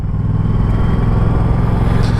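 Moto Guzzi V100 Mandello motorcycle engine burbling at idle with a low, steady rumble and irregular pops close by, loud and continuous with no speech.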